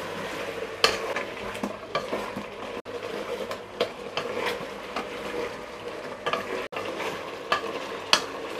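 Pieces of mutton fry and sizzle in a pan with salt, stirred with a spoon that scrapes and clinks against the metal in irregular strokes over a steady sizzle.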